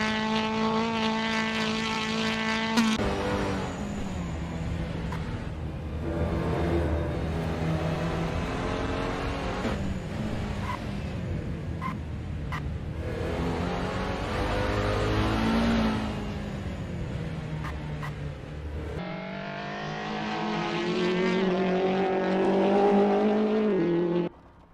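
Race car engines from British Touring Car Championship cars in the Assetto Corsa racing game at Silverstone 2005 International, a steady loud drone of several engines with shifting pitch for the whole stretch, swelling and dipping before a rising rev at the end.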